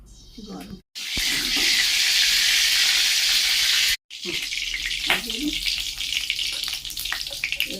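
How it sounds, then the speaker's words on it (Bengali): Chopped chili and onion hit hot oil in a home kitchen pan, setting off a loud, steady sizzle that runs for about three seconds. The frying then settles into a softer, crackling hiss with occasional clinks and faint speech. "লঙ্কা কুচুনো পেঁয়াজ কুচুনোটা তেলে দিয়ে দিলাম"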